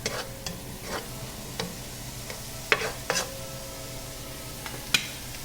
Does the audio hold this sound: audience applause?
no